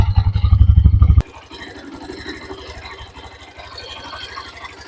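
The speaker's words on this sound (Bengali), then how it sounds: "দেখো এটা হচ্ছে নর্মাল এক্সস্ট সাউন্ড।" A Hero Xtreme 125R motorcycle sits idling, its exhaust giving a steady, even putter at close range; a louder, deeper thumping burst opens the first second before settling into the quieter idle.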